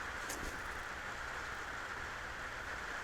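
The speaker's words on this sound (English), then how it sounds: "This rain is just here to make me mad" Steady rain falls outside as a constant soft hiss, even and continuous throughout, with no voices.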